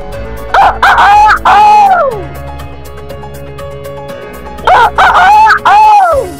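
A voice loudly imitates a chicken's clucking call in two close, rhythmic bursts separated by a few seconds of low background hum.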